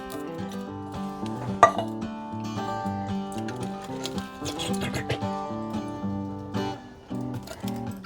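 Two small cans of diced tomatoes are emptied into an RV crockpot for jambalaya, with metallic clinks, knocks and wet plops up close, and a person talking throughout.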